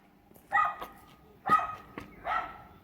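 A dog on a rural hiking trail near a village in Hong Kong barks three times at roughly one-second intervals, close and fairly loud, with quiet gaps between barks.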